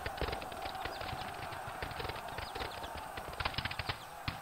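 Horse cavalry hooves in a Seven Years War battle video game, a steady patter of many hooves with sharper clip-clop bursts near the end, set among a busy background of battle noise.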